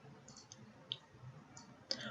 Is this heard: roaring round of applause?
no